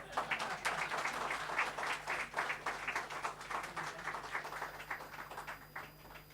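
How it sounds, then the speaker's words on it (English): An audience at a book launch applauds at a moderate distance, steady dense clapping that fades gradually over several seconds. "Can give a second round of applause for this."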